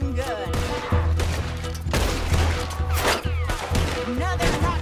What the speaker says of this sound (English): That boy's gonna get on the Gatling gun.